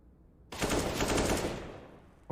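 Rifle spray in a CS:GO match: a rapid, dense burst of automatic gunfire lasting about a second, loud against a quiet background, then tapering off, followed by an abrupt new sound at the end.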